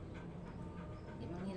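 A Husky Labrador mix dog named Boots pants in steady, close rhythmic breaths, with a faint low rumble and a voice murmuring underneath.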